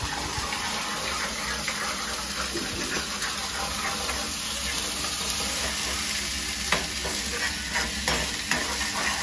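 Masala spice mix dropped into hot oil in a pan, a steady close sizzle and frying hiss with faint stirring scrapes, continuous and fairly even, no voices.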